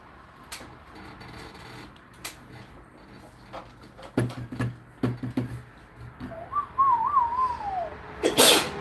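A single sharp sneeze near the end, loud and close, after quiet room noise with scattered clicks and a brief whistled tune.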